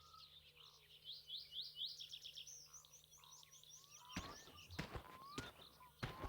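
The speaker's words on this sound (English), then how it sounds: "That bird sound, it's hard to express just how much I've missed that." Birds chirp and tweet in the ambience of the video game My Winter Car, a run of quick, bright calls at moderate distance over a steady outdoor background, later broken by a few sharp thumps.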